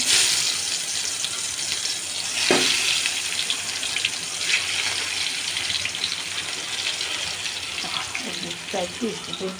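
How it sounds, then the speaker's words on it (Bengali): Eggplant pieces frying in hot mustard oil in a wok give off a steady, dense sizzling hiss throughout, with a few soft clinks and splashy knocks as pieces go in near the end. "কড়াইতে সর্ষের তেল দিয়ে দিয়েছি এবার গরম হয়ে গেছে এবার একটা একটা করে বেগুনগুলো দিয়ে দেবো"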